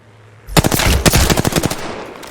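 Rapid automatic gunfire in the battle royale game Apex Legends, a loud close burst of shots that starts abruptly and rattles on for about two seconds.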